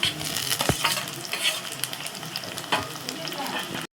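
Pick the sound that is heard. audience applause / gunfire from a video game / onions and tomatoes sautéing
onions and tomatoes sautéing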